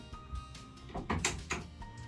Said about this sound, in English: there's a latch underneath that you push to lock it in place